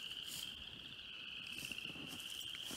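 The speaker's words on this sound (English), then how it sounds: "Listen to the frogs get it, though." Frogs and insects calling in woodland, a steady high-pitched chorus that carries on without a break, soft and somewhat distant, with no voices.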